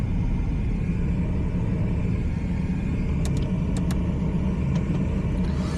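Car pulling away during a driving test on a Hull route, heard from inside: a steady loud engine rumble and road noise throughout, with a few faint ticks near the end.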